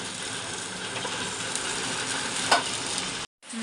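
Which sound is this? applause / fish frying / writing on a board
fish frying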